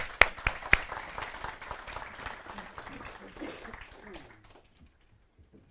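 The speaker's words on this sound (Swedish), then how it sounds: "en applåd till det här gänget" A seminar audience applauds a panel, with clapping that fades out over a few seconds, then near silence, and a voice briefly heard at the start.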